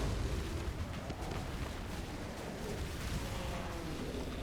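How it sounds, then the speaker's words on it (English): Deep, rumbling booms and bursts of Path of Exile explosions blending into a continuous loud roar, with no voices. "But those big old booms are the explosions."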